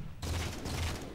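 Grenade explosion in the Halo 4 video game during a Team Throwdown Slayer match on the Simplex map, a loud, dense blast that roars for about a second with heavy low rumble.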